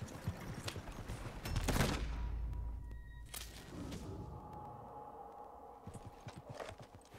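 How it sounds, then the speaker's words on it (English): Horse hooves in Red Dead Redemption, clip-clop footfalls at a gallop mixed with scattered sharp gunshot-like bursts, moderately quiet and uneven throughout. "I'm getting on my horse. I'm coming."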